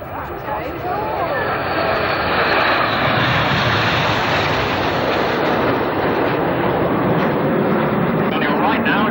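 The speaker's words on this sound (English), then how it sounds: "watch as the 7 aircraft fan out over our heads in the Cascade" Seven display jets pass overhead in formation at an airshow, a loud roar that swells and holds as they fan out above, with a public-address commentator talking over the noise.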